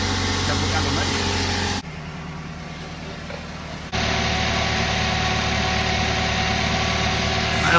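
A Toyota Hiace 2.7 litre petrol engine idling, a steady, fairly loud mechanical hum that dips during a brief quieter pause and then settles back into an even idle.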